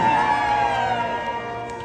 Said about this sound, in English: the crowd cheers with glee